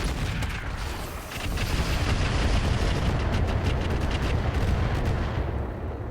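Mech weapons firing on an Archer battlemech in RogueTech, a BattleTech game: a dense, continuous volley of loud booms and gunfire crackle that stays heavy and close throughout.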